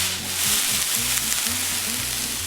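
Onions and bell pepper sizzle in a pan while being stirred, a continuous close hiss over a low, rhythmic humming tone.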